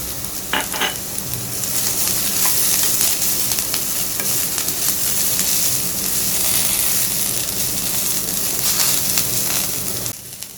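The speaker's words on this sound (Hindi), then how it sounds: "ये हो गई हैं सब्जियां, मैंने फ्राई कर ली हैं" Vegetables and long green chillies fry in a pan for a chow mein, a loud, steady close sizzle with a few stirring clicks near the start, running without talk until it cuts off at the end.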